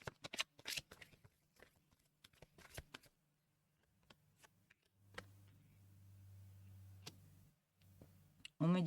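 Cards are shuffled and handled during a tarot-style card reading, giving quiet riffling clicks and soft rustles, with a longer low continuous stretch near the end; faint, close, with no speech.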